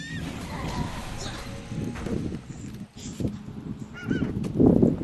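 Honking and cawing bird calls from the mobile game Dungeon Boss Hero come in short bursts over game sound effects and background noise, moderately loud, alongside some talking.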